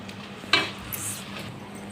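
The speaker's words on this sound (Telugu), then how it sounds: "పసుపు చిటికెడు, 1/2 టీ స్పూన్ అల్లం వెల్లుల్లి పేస్ట్. ఇలా మంచిగా ఫ్రై కావాలి." Ginger-garlic paste with a pinch of turmeric frying in a pan for chicken curry, a single sharp sizzling burst as it hits the oil, then a low steady hiss with a faint clink, close and alone.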